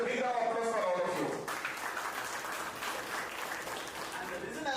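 An audience claps at a business school graduation ceremony, with applause filling the room under crowd voices and strong reverberant speech tones throughout.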